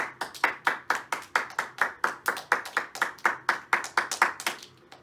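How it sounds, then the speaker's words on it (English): A school assembly audience gives a round of applause, brisk and steady hand claps in a regular rhythm, close and lively, fading slightly at the end. "Give those classes and yourselves a big round of applause."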